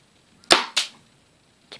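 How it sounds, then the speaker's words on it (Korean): A homemade BB gun built from a ballpoint pen firing a plastic BB: two quick, sharp snapping pops close together, then a fainter click after a short gap, in a quiet room. "이제 얘를 여기를 누르면 비비탄이 발사가 돼요."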